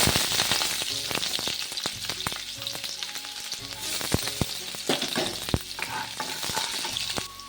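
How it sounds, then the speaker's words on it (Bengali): Onions frying in hot oil in a wok, a steady loud sizzle broken by repeated clanks and scrapes of a spatula stirring against the pan. "সবার প্রথমে আমি পেঁয়াজ দিয়ে দেব।"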